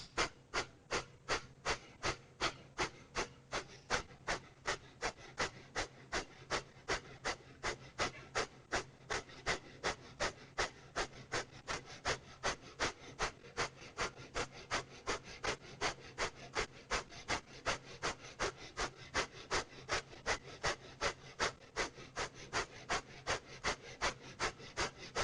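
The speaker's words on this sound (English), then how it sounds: "and breath of fire." Rapid yoga breath of fire: a steady train of quick, sharp nasal exhalations, roughly two to three per second, evenly paced and close to the microphone, continuing without pause for the whole stretch.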